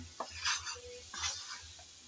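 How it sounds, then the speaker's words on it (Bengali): Kochur loti stirred and fried in oil with shrimp, tomato and green chili, soft crackling sizzle with two bursts of spoon scraping through the pan, fairly quiet and close. "আমি কিন্তু এ পর্যন্ত কয়েকবার ভালোভাবে নেড়ে চেড়ে তেলের মধ্যে ভেজে নিচ্ছি"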